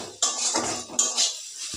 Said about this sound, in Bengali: এবার আমি এগুলোকে আরেকটু কষিয়ে নেব।